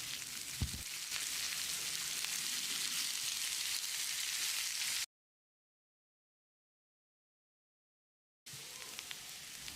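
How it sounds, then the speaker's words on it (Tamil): Onions sizzle and crackle steadily in a hot pan as they brown for a vegetable curry, close and fairly quiet. The sound cuts to silence partway through, then resumes. "வெங்காயத்தை நல்லா பொன்னிறமாக வதக்கிடலாம்."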